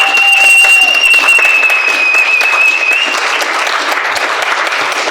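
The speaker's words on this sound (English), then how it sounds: "Clap it up for Brody one time." Sustained, loud applause from a crowd at a fireside chat event fills the room for about five seconds, with a whistle cutting through early on.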